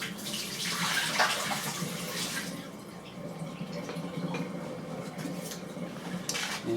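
Hot water pours out of a Wear-ever Ideal immersion coffee pot, a close splashing gush that swells early and then trickles and sloshes on with faint clinks of metal.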